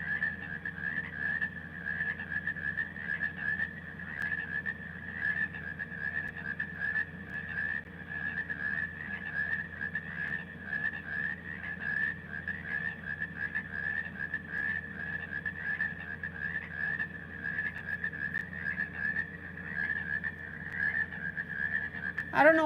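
Frogs croak and trill steadily at night in a continuous, moderately faint chorus with a high repeating whistle-like call, no voices over it.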